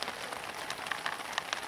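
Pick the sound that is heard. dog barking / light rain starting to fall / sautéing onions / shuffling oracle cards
light rain starting to fall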